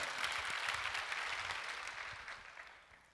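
A church congregation at a healing service clapping together, a soft, dense patter of many hands that gradually fades toward the end, heard from some distance.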